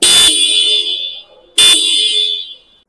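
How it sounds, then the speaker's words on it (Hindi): Two loud, sharp blasts from the dual horn of a TVS Apache RTR 160 4V Black Edition motorcycle, each a bright, buzzy tone held for over a second, separated by a short gap, close and unaccompanied by talk. "इस बाइक में जो है आपको डुअल हॉर्न भी देखने को मिल जाता है"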